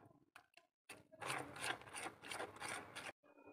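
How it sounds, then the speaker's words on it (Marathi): Cake batter is stirred by hand in a bowl while milk is added a little at a time, giving soft, close rubbing and scraping strokes with brief pauses, and no talking. "थोडं थोडं हलवून घेते आणि थोडं थोडं दूध असं घालत जाते"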